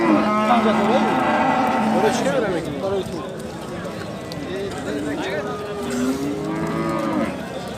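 Cattle low and moo repeatedly at the Bokhtar livestock market, where dairy cows and bulls are sold, the calls loud and close amid a busy crowd of overlapping voices and bargaining talk.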